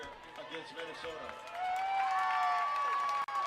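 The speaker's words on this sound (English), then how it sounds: "And you hear the crowd now" A stadium crowd at a women's football game, Minnesota Vixen at St. Louis Slam, roars loudly after a false-start penalty. The roar swells about halfway through and holds steady under a commentator's voice.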